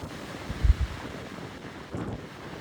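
Steady gusty wind buffets the microphone in a low rumble on a hilltop above Burbank, with a couple of stronger bursts partway through.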